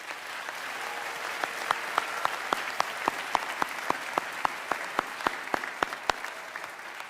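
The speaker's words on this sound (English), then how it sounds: "Let's give them another round of applause." Steady audience applause fills a college commencement ceremony, a dense wash of clapping with sharper individual claps rising near the front, sustained evenly throughout.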